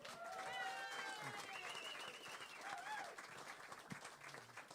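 An audience at a blues piano concert claps steadily throughout, a dense wash of applause with a few voices and a sustained musical tone mixed in.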